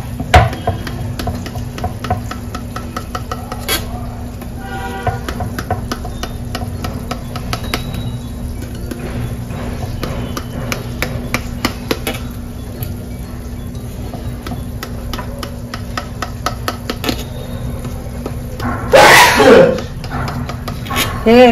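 A knife cuts a tray of steamed, cooled homemade dhokla into pieces, giving steady light taps and clinks against the pan, close and clear, with a louder scraping clatter near the end.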